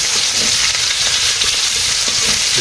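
Fish curry cooks in a pan in a rural Bangladeshi village kitchen, a loud, continuous close-up sizzle and hiss of hot oil with no voices.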